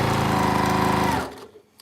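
A sewing machine stitching fabric seams runs as a loud, steady, rapid whirring hum for over a second, then cuts out abruptly, leaving a faint click or two in near silence.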